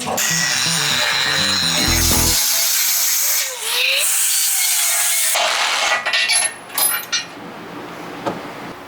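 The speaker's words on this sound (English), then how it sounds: "drill the rest of these holes." A power drill bores holes in steel shock brackets for a 1948 GMC pickup truck, loud whining bursts that start, cut off abruptly and resume, ending in a few short uneven pulses.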